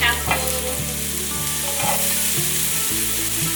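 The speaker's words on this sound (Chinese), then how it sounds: "锅内放入少许油，油热了之后放入姜末，把姜末炒一炒，炒香。 接下来放香菇，" Ginger and shiitake mushrooms stir-frying in hot oil, a steady close sizzle with spatula scrapes and stirring knocks, set under a soft tonal background and with no talking.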